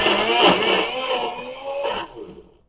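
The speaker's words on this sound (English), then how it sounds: "I'm going to stick the blender on. And we're going to get blending." A blender whirring through pineapple juice, a loud high motor whine that shifts pitch as it labors before spinning down and cutting off near the end.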